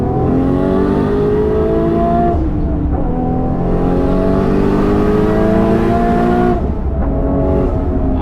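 An 850hp Nissan Skyline R34 GT-R V-Spec race car roars past at full throttle on the Nürburgring, its loud engine whine climbing through gears, then shifting and fading with a sharp changeup near the end.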